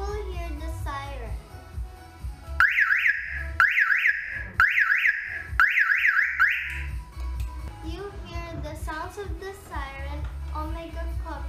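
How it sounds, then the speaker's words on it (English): An OMEGA Cobra car alarm siren wails in loud, rapidly warbling cycles of rising and falling tone, broken by brief gaps, with a person speaking before and after it. "If you press and hold this button, you will hear the siren."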